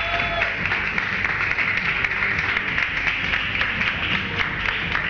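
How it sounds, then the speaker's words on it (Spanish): A television studio audience applauds a contestant on a Spanish-language entertainment show, giving a dense, even wash of many hands clapping that holds steady for several seconds with faint voices underneath. "Un aplauso de verdad para Rodrigo otra vez"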